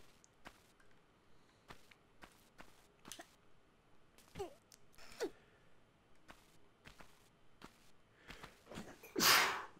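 A man sneezes once, loud and close, near the end, after a stretch of quiet clicks and soft movement noises while playing Tomb Raider on DOS.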